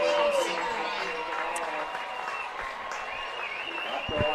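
A crowd at a South Medford at Grants Pass high school football game roars steadily throughout as their Caveman team heads for an upset, with an announcer talking over the cheering.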